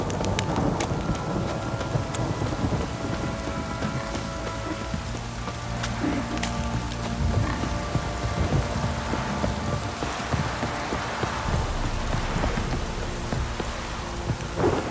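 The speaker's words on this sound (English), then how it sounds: "This downpour's a bastard, it is." Heavy rain pours down steadily in The Witcher 3, a dense continuous hiss with scattered drops and low rumbles, loud and unbroken for the whole stretch with no talking.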